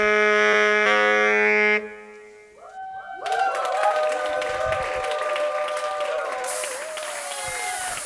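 A live concert crowd at ACUD in Berlin breaks into applause after a sustained musical chord fades, loud dense clapping with scattered cheers swelling and holding to the end.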